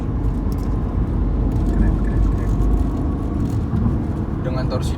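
A Mercedes-Benz W204 C200 Avantgarde with the 1.8 CGI engine pulls hard, a steady, low engine drone and road noise heard from inside the car under a voice.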